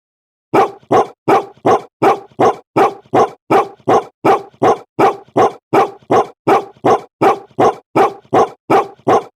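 A voice imitating a dog barks loudly and close, about twenty identical barks in a fast, perfectly even rhythm with silence between them.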